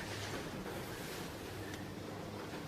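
Big waves and bumpy water during a sailing race, a constant loud rush of water and wind against the boat with brief splashes and no voices.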